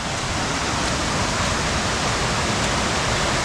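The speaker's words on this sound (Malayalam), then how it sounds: "ഇതാണ് ആ വെള്ളച്ചാട്ടം." Paathi waterfall in Arag forest roars close by, a dense, steady rush of falling water filling the whole clip with no pauses and no voices.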